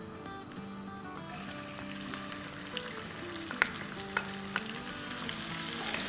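One small, finely chopped onion dropped into hot oil in a pan: a quiet background bursts into a loud, bright sizzle that continues steadily with a few light stirring clicks.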